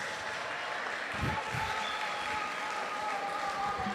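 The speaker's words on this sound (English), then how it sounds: "appreciate Opoku Ware School with a round of applause" A crowd at a national school science and maths quiz final applauds steadily throughout, a dense wash of clapping with a faint tone running beneath and a few low thumps.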